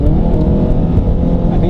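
Scion tC engine with the muffler off and an AEM cold air intake, revving loudly up close in a rough, throaty drone over the whole span; a voice talks over it.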